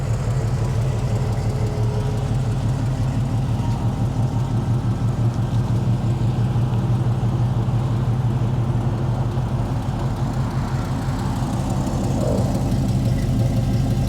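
A 1964 Pontiac GTO sits idling to warm up on a chilly day, its engine giving a steady, even, low rumble with a fast pulsing beat that holds unchanged throughout, close and with no talking.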